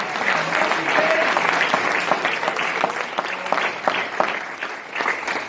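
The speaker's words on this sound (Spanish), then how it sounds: "Denle un aplauso al Señor si así lo creen" A church congregation at a twelfth-anniversary service applauds in worship, a loud, dense wash of clapping from many people that holds steady for several seconds, with faint voices or cheers mixed beneath it.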